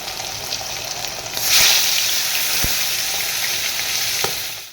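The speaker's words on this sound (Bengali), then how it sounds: "এই যে মাছ ভাজছি" Pangas fish frying in a pan, a steady loud sizzle that flares up briefly as the fish is moved, with a few faint clicks against the pan.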